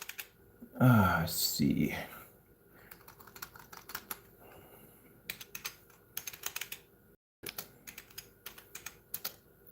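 Someone types a name into a search bar on a computer keyboard, in clustered bursts of rapid close key clicks with brief pauses between them, after a short spoken remark.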